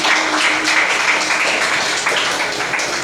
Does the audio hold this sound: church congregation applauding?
yes